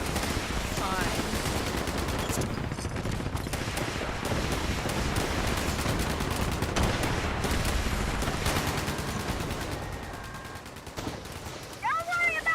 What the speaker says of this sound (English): Don't worry about all the explosions.